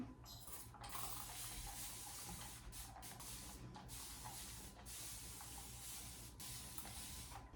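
Water misted from a spray bottle onto dripping-wet wavy hair, a steady broad hiss running almost unbroken for several seconds with a few short pauses, fairly close, with no voices.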